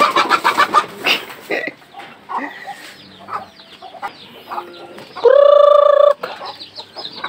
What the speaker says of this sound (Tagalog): Padaghanon sa nato ni atong mga alagang manok.